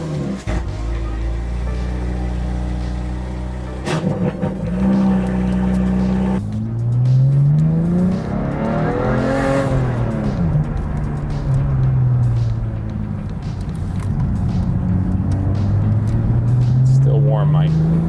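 A sports car exhaust with an active mid-pipe, ACR rear section, no resonators and deleted secondary cats revs repeatedly in a garage, rising and falling in pitch with a raspy snarl, while a person talks over it at times.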